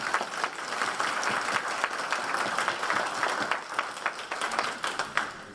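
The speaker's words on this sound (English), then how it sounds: "Yes, please, let's applaud Dr. Finney." An audience at a university commemoration day event applauds steadily, a dense wash of many hands clapping at an even level throughout.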